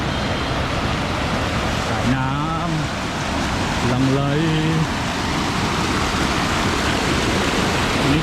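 A strong mountain stream at Khiri Wong, Thailand, in the early November rainy season rushes in a loud, steady, unbroken roar throughout, with two short stretches of voices heard over the water.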